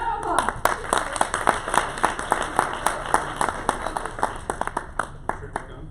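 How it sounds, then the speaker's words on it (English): Scattered, uneven clapping from an audience at a workplace talk, with sharp individual claps over a steady murmur and a voice speaking over the applause throughout. "Shout out to the stage. Round of applause."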